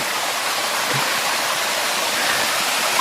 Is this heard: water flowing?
yes